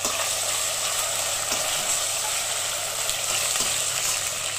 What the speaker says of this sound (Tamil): இப்போ பாருங்க இஞ்சி பூண்டு பேஸ்ட் போடுறோம்